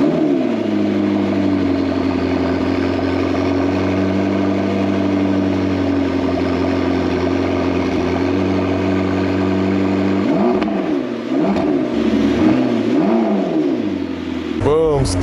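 A McLaren 650S Spider, crashed and long abandoned, cranks and fires up, then settles into a steady loud idle before several sharp revs near the end.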